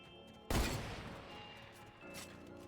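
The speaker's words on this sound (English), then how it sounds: "Yep, gunshots." A sudden loud burst of gunfire in Fortnite erupts, then trails off into a noisy rumble, with a second smaller burst near the end.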